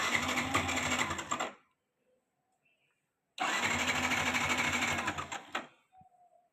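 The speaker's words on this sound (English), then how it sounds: "The bike is not starting." A Yamaha FZS motorcycle being cranked with the choke pulled, two long whirring starter-motor bursts separated by a pause of silence, the engine failing to catch, heard close and loud.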